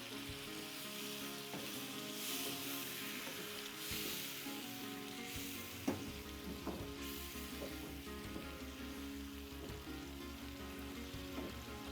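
Water is added to aloo fry shorba gravy in a hot pan, producing a steady close sizzle and bubbling with a few clinks and stirring knocks. No one speaks.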